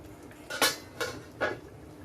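Metal lid set onto a pot of cooking chicken, three quick clanking contacts of metal on metal, close and clear with no talk.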